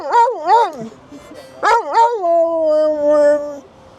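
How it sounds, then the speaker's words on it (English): A dog howls and yowls in a sing-song way, two rising-falling bursts followed by a longer sustained howl, loud and close with no talk. "this is Flying Joe, the singing dog. I hope he's not complaining."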